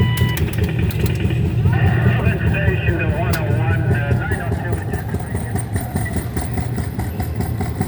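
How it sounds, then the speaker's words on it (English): The motor of a Fire Fox police helicopter coin-operated kiddie ride drones loudly and continuously, with warbling electronic sound effects and squeals layered over the low hum. "The motor's really loud."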